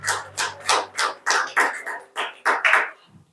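Worship congregation clapping their hands together in a steady rhythm, about ten loud claps in quick succession, close and clear with no talking over them.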